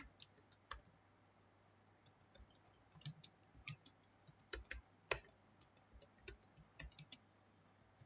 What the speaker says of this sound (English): now we'll type the program.